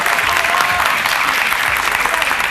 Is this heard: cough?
no